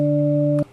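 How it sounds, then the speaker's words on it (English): A steady, loud synthesizer sine wave tone hums evenly for just over half a second, then cuts off abruptly. "That is a sine wave."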